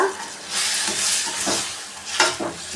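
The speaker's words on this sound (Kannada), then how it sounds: "ಇವಾಗ ಈ ಅನ್ನದ ಕೈ ಸೌಟಲ್ಲೇ ಈ ಥರ ಮ್ಯಾಶ್ ಮಾಡ್ಕೊತಾ ಇದ್ದೀನಿ ನಾನು" Softened tomatoes are mashed in a pan with a rice ladle while cooking sambar, giving soft wet squelches and scraping strokes with light sizzling, close up and without talk.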